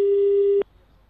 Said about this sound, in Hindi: फोन लाइन कट गई।